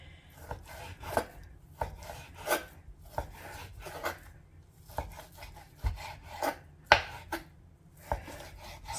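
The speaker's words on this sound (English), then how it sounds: "I'm just slicing it up with a knife." A knife slices through raw bacon on a cutting board, giving a steady run of sharp chopping strokes, roughly one per second, close and clear with nobody talking.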